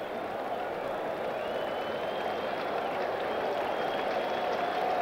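A baseball crowd at a 1984 Chicago Cubs at New York Mets game stirs after a second strike, a dense steady roar of cheering and clapping that swells slightly toward the end.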